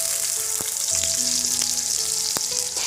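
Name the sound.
ginger, garlic and onion frying and stirred for buffalo meat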